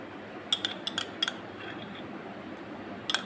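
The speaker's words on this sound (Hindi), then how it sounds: "इसको इसके साथ अच्छे से मिक्स कर देते हैं ताकि इसमें कोई लम्स ना फील हो" A spoon clinks against a bowl while cream is stirred into custard for a milk and rusk pudding, a few light, sharp taps in quick succession, then one more after a pause, over faint room hiss.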